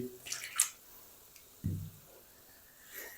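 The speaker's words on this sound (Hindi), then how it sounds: "थोड़ा सा पानी और लगाएंगे" A little water goes into korma spices frying in a pan for an Afghani egg korma, making a few soft drips followed by one brief, close splash and a faint sizzle.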